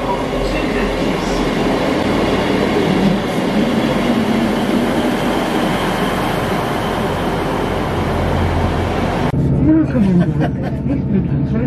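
Loud, steady rumble of a two-coach East Midlands Railway passenger train in motion, heard from inside, with rhythmic rail noise; the roar cuts off suddenly near the end, leaving quieter cabin sound.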